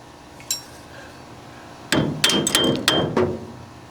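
Several sharp hammer blows strike a rear suspension part on a 1993 Ford F-150 near a grease fitting during a two-inch rear drop, a quick cluster of close, loud metallic whacks after one lighter tap.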